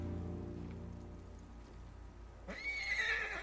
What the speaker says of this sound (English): The white horse will be with you for your entire journey.